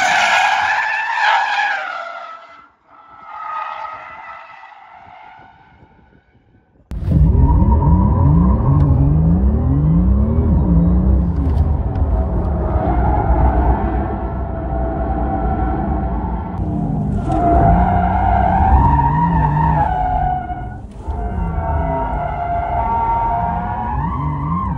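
A Porsche sports car drifting on the circuit at the Leipzig factory, with loud, sustained tire squeal and wailing skids over a roaring engine that rises and falls through the long slide, close by.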